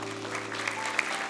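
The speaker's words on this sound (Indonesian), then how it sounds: "Boleh kita beri tepuk tangan untuk mereka?" A television quiz show audience claps for child contestants, a brief burst of steady applause at moderate loudness with a little background noise.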